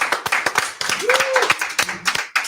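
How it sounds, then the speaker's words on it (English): Audience applause for a local Northeast band at a live show, a dense burst of claps lasting a couple of seconds with some voices and a whistle mixed in. "Let's give them another round of applause."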